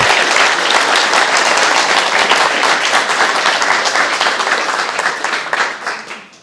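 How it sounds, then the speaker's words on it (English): A crowd at a Guide Dogs for the Blind graduation ceremony applauds the graduating class with loud, close, continuous clapping that gradually fades out near the end. "let's give everyone last final applause for class"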